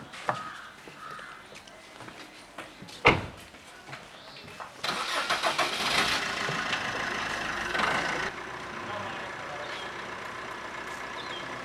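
A vehicle engine is started: after a few faint knocks and a sharp clunk, it cranks and catches into a loud, rough run for several seconds, then settles into a lower steady idle.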